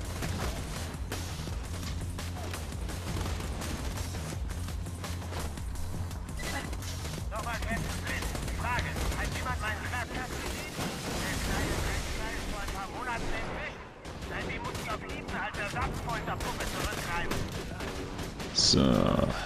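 Rapid pistol fire from Borderlands 2 on PS3 crackles through dense game combat noise, shots packed in quick bursts across the whole stretch while players talk over it.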